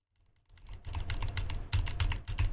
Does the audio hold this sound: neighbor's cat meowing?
no